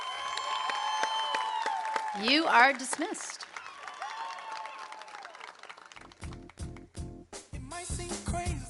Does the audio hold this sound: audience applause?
yes